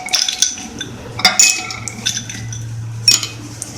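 Ice cubes clink and rattle into drinking glasses for a milkshake in several bright, close, irregular knocks over a low steady hum.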